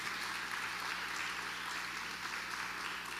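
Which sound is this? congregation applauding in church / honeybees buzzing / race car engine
congregation applauding in church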